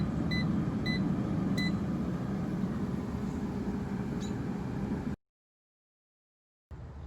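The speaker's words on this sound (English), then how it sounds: "Now the air fryer is done cooking," An air fryer finishing its cooking cycle after baking canned refrigerated biscuits at 350 degrees gives several short electronic beeps over a steady fan hum, which then cuts to silence before a faint hum returns.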